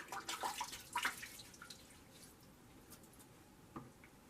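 Water drips and splashes briefly while a face is wetted before lathering for a second shaving pass, a few soft wet patters early on and one more near the end, otherwise quiet.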